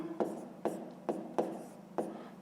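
A pen writes maths numbers by hand on paper, five short scratchy strokes at an even pace, close and fairly quiet, with no voice.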